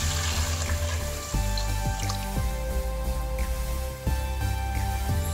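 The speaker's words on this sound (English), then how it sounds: "so I'm going to add the water." Water pours and splashes into a pressure cooker holding urad dal in a home kitchen, with a steady trickle and a few drips heard close up over faint background music.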